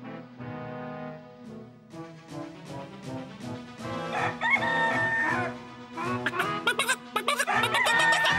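A cartoon rooster crows in a Soyuzmultfilm animation based on the Russian folk tale 'Chudo-melnitsa', its bright call rising over lively orchestral music.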